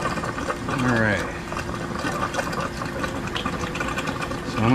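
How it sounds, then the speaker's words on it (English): A battery-powered vacuum pump hooked to an HVAC split system hums steadily nearby, a constant mechanical drone, while someone talks over it. "I'm going to go ahead and shut off the vacuum because I only got so much battery left"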